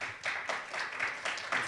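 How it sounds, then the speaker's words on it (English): Audience clapping at a ward aldermanic runoff election forum, a short burst of moderate, fairly close applause with steady overlapping claps. "If we could save the applause till afterwards, please."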